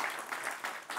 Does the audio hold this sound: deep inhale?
no